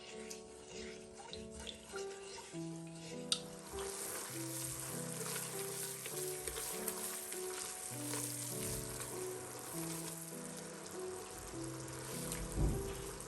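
Half a litre of water and half a kilo of sugar simmer into syrup in a pot, a steady soft bubbling sizzle throughout with faint stirring, quiet and close, under a gentle melody.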